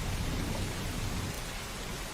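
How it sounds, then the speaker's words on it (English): Steady rain soundtrack, a dense close wash of falling drops and hiss with a faint low rumble underneath, continuous and alone. "I put a soundtrack of rain behind it"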